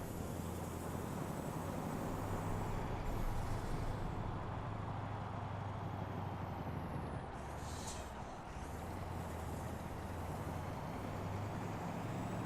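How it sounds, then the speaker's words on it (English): A truck engine in the video game Euro Truck Simulator 2 drones steadily at close range, with a loud hiss of air brakes and a brief rise in revs partway through. "I like the sound of this truck."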